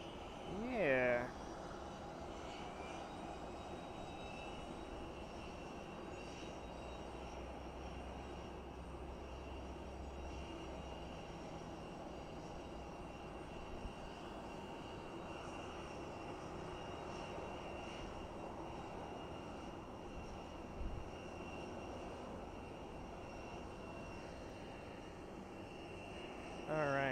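Aircraft engines idle and taxi on the tarmac at Boise Airport, a steady distant drone holding throughout with a few brief louder swells, under faint background noise.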